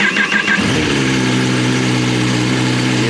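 A Kawasaki superbike engine, a Ninja 1000 or ZX-10R, cold-starts after sitting unused a long time: a short cranking burst, then it catches into a loud, steady, close idle with no talk.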